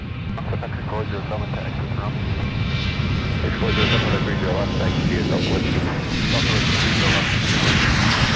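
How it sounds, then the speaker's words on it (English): An Airbus A330 jet, a Delta long-haul airliner at MSP airport, gives off a loud continuous engine roar that swells slightly toward the end, with voices underneath. "The A330s are a pretty common sight at MSP"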